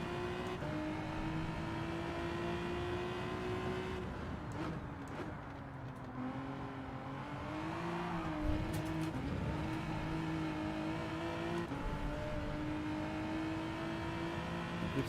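A Group 3 race car in Gran Turismo 7 roars as it accelerates, its engine note climbing and dropping with each gear change, loud and steady throughout with no talking.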